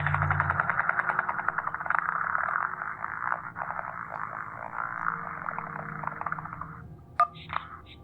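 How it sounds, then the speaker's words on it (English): A failing motorboat propeller sound effect from Kentucky Route Zero, heard as a sustained warbling, croaking drone with steady pulsing texture, ending in a few sharp sputtering bursts near the close. "That was a motorboat's propeller failing."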